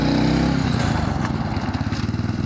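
An old lawnmower engine, pulled out from under a tarp, runs loud and close, first smooth, then shifting into a rough, pulsing chug.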